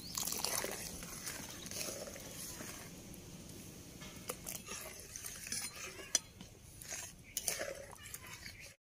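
A spoon stirs cornflour slurry into vegetable soup in a pot, giving quiet scraping and occasional light metallic clinks against the pot over several seconds.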